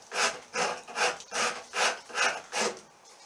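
A hand rasp files a wooden axe handle in seven even, rhythmic strokes, each a close, scratchy rasping pass with brief pauses between, no voices.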